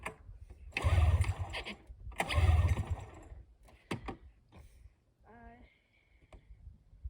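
A small rebuilt engine is cranked after a choke adjustment. It gives two loud, short bursts of rough sputtering close by, followed by quieter clicks and a brief voice.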